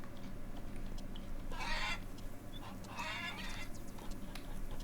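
Hens cluck in a pen on a farm in the Farmer's Dynasty video game, two short bursts of clucking in quick succession over a steady low ambient hum.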